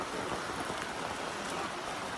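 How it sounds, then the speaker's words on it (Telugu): Heavy rain pouring down over a market in Shillong, a dense, even roar of drops hitting surfaces, loud and close, continuous throughout without voices. "ఫుల్ వర్షం అయితే పడుతుంది"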